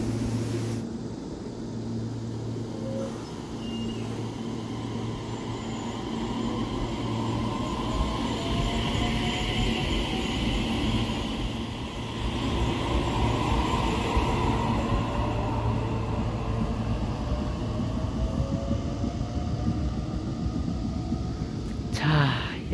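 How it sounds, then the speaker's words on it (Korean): A train pulls away from a small rural station in Korea, a long, low rumble that builds steadily and stays heavy for over twenty seconds, with faint squealing tones rising over it. "자, 이제 이 열차에 발차 영상을 찍도록 하겠습니다."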